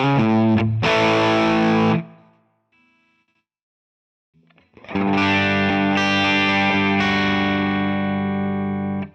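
Electric guitar through an IK Multimedia Tonex pedal with high gain, thick distorted chords ringing out with a brittle edge, a brief near-silent gap, then a long sustained heavy strum, loud and alone.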